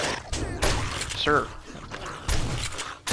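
A shotgun in the zombie survival game 7 Days to Die, console version, fires two sharp, booming blasts spaced about two seconds apart over someone talking.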